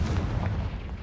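A Confringo blasting-spell explosion in the video game Hogwarts Legacy, heard as a brief, heavy, rumbling boom that fills the moment with dense low-end roar.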